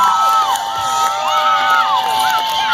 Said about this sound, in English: Make some noise for this guy.